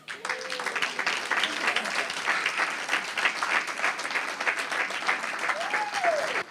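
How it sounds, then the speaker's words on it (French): A church congregation bursts into loud, sustained applause, a dense steady wash of clapping that lasts throughout, with a voice briefly rising over it. "On applaudit très fort."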